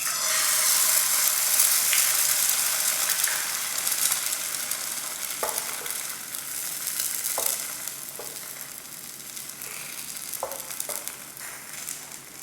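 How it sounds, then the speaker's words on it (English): An egg fries sunny side up in oil left over from luncheon meat, giving a steady loud sizzle with a few soft taps and stirring sounds scattered through it. "Fry the egg in the remaining oil from the luncheon meat."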